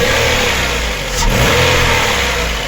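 An Opel Vectra C 2.2 engine with new timing chains revs steadily at close range, holding a loud, even drone with a slight swell midway, no voices.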